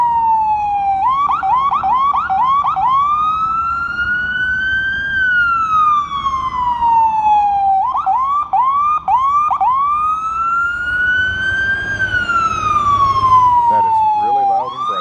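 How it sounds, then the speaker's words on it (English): A fire truck siren wails loud and close, cycling through rapid yelps and long rising-falling sweeps over the whole stretch, steady and dominant above faint background noise. "That is really loud and bright. Fire truck."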